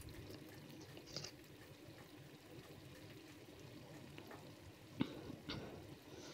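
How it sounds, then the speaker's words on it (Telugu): Kanda pulusu, a yam stew, bubbles and simmers in a pot on the stove, a soft continuous sizzling hiss with occasional sharper pops and a clink near the end. "చూసారు కదా ఎలా బాయిల్ అవుతుందో"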